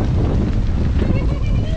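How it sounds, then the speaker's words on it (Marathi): Strong stormy wind at the Mumbai seafront near the Gateway during heavy rain, roaring steadily with loud microphone buffeting throughout, with boats nearby on rough water. "आणि वारा पण वाढतोय परत"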